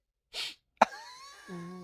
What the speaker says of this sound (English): A single sniff and it's gone.